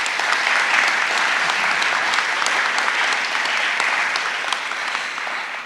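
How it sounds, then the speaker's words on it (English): An audience at a school's National Honor Society and National Junior Honor Society induction ceremony applauds the members, a dense, steady wash of many hands clapping throughout, loud and close. "Can we get a round of applause for them?"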